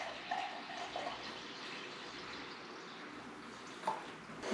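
Vinegar poured into a Dutch oven while making dill pickles, a steady liquid splash and trickle that carries on through the whole stretch at moderate volume, with a few brief clinks.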